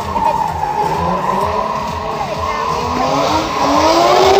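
A drifting car brakes into a corner, its tires skidding in a long, loud wavering squeal over the engine drone, building toward the end.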